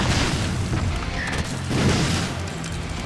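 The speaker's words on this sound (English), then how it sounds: "Hello, rocket launchers!" Rocket launcher blasts in the platformer Super Meat Boy: a continuous heavy, booming rumble with overlapping low explosions and no clear pauses.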